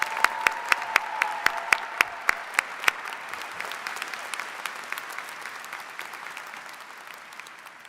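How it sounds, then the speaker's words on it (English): Audience at a psychology commencement applauds award-winning students: a steady wash of crowd clapping with a few sharp, close individual claps standing out early on, then slowly tapering off. "please join me in congratulating all of these award-winning students with a round of applause"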